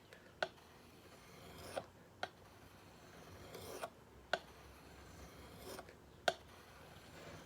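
A chisel is sharpened by hand at a workbench, giving soft rasping strokes broken by about seven sharp scraping clicks spaced roughly a second apart, quiet and close with no talk.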